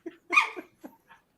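Dogs bark and vocalise in a few short, close bursts with brief gaps between them, fairly loud against an otherwise quiet background.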